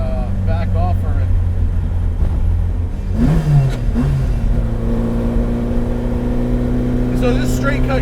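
A modified 1966 Alfa Romeo Giulia GT engine revs and pulls hard through the gears, a loud, steady drone climbing in pitch with a brief shift dip midway, heard from inside the car with voices talking over it.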